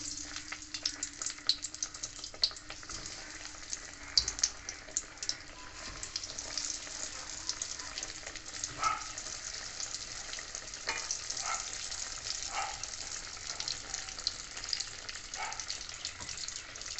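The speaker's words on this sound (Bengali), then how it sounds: "তেলটা গরম হয়ে গেছে, আমি এবার একটা করে বেগুনগুলো আমি এর মধ্যে দিয়ে দেবো।" Eggplant slices fry in hot oil with a dried red chili, giving a continuous close sizzle with faint crackles and occasional small pops throughout.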